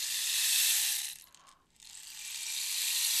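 A small rain stick tipped over, giving a quiet, steady rattling patter of fine beads that thins briefly as it turns, then resumes as a soft continuous hiss.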